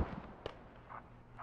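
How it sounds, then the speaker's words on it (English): Hell cannon blast in the military shooter Squad, a single sharp explosive crack followed by faint distant thuds, fairly quiet and brief. "Yamaha takes a hell cannon right to the face"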